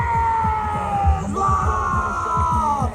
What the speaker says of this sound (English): make some noise for Aiden Heslop